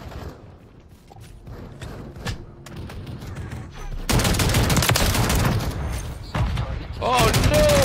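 Gunfire in a Das Haus shooting match video game: scattered thuds and mechanical clicks at first, then loud sustained bursts of rapid shots with brief gaps, intense and close.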